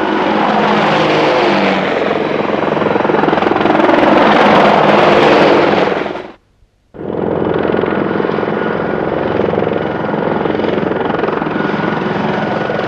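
An Apache attack helicopter flies with a loud, continuous rotor roar that cuts out briefly to near silence midway, then resumes just as strong.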